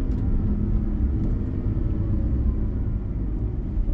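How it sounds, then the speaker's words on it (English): A steady low mechanical rumble inside a 2011 Mercedes-Benz SLS AMG, where the suspension, brakes and transmission can be heard working under a continuous road-and-drivetrain drone, close and even throughout. "You can hear all the operations of the suspension and brakes and transmission."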